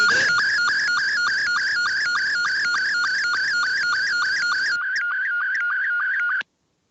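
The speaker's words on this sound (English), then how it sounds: "So that's the sound of slow scan television." A slow scan television transmission from RS-1SS received over radio, a steady warbling electronic tone that wobbles rhythmically in pitch, loud and continuous before shifting to a thinner tone and cutting off abruptly near the end.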